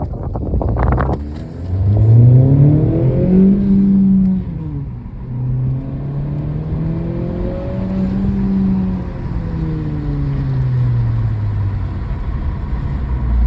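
10th-generation Honda Accord accelerating on a test drive, its engine note rising through several gear pulls with swooping upward sweeps and drops at each shift, heard loud from inside the cabin.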